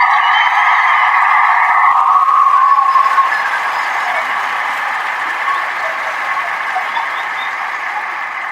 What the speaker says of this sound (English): So I want to give a salute, round of applause to my brothers and sisters that saluted,